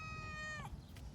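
A cat gives a single short, drawn-out meow, close and fairly soft, over a low background rumble.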